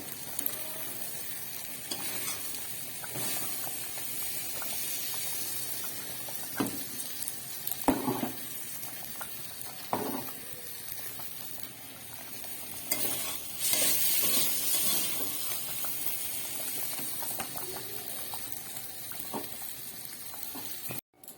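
Khichuri simmering in a pot as sautéed spices are stirred in, a quiet steady sizzle and bubbling broken by occasional scraping stirs and clinks, faint and close with no talking.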